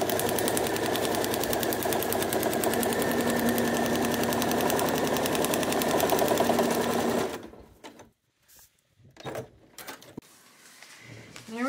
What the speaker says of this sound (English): I'm going to just sew right down that line